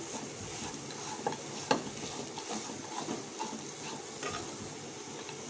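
Laddu mix of flattened rice and wheat semolina being stirred with milk in a pan, giving a steady soft sizzle with scattered scraping clicks of the spoon, close and continuous with no voices.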